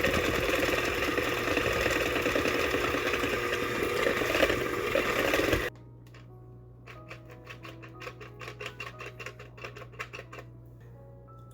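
Electric mixer blending pandan waffle batter, loud steady whirring for about half the clip, then the motor cuts to a low hum with light ticking, rattling clicks.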